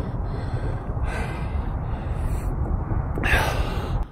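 Heavy breathing after a ten-mile march through snow, with rough, close breaths and a couple of sharper gasping exhales over steady low outdoor rumble.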